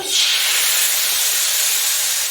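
Loud, steady sizzle and hiss of batter hitting a hot griddle, continuous and close, with no talking.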